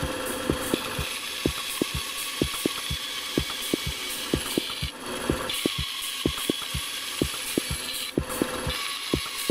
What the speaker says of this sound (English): We're gonna go cut this out in the bandsaw now.